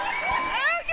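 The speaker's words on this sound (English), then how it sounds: "you see the crowd is cheering for them" Spectators at an air hockey doubles tournament cheer and whoop loudly, high excited voices rising and swooping over a short burst of crowd noise.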